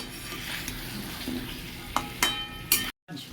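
Young jackfruit and pumpkin fry in a pan with a steady sizzling hiss, and a spoon scrapes and clinks through it in a few sharp stirs near the end.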